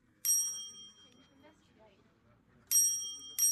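A bright bell rings in the VRChat game, one sharp ding near the start and two more close together near the end, with quiet voices murmuring between.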